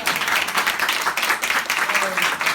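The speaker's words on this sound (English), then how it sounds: "can we just get another round of applause for all of these amazing singers?" Loud, dense applause rises from the audience at a singing studio's duet event in praise of the performers. It sweeps along in continuous rolling waves, with voices and cheering mixed in beneath the clapping.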